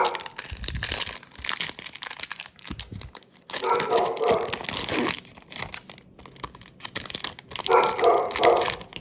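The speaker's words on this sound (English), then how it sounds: "Hopefully the dogs will stop barking here." Dogs bark in bursts nearby while basketball card packs are opened, sharp barks coming in two clusters amid crinkling wrapper noise and a person talking.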